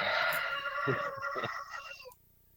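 A rooster crows close by, one long harmonic call that wavers and trails off, followed by a short quiet tail with low background.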